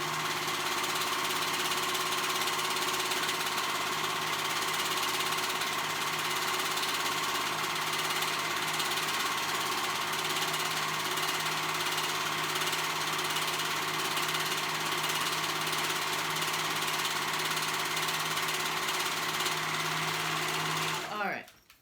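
Sewing machine stitching dress fabric, a steady, fast mechanical whir and hum running continuously and fairly loud for about twenty seconds before stopping abruptly at the end.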